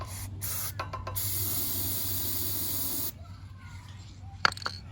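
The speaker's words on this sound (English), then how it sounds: "I'm gonna go ahead and inject some spray inside of the cylinder" A steady broadband hiss of aerosol spray injected into a Valsi generator engine's cylinder runs for about three seconds, close to the mic, then stops, followed by quiet clicks and handling.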